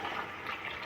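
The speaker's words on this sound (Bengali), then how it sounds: "গ্রেভির জন্য একটু জল দিয়ে দিলাম।" Water splashes briefly into a pan of dahi paneer curry to loosen the gravy, a short, steady pouring rush close by.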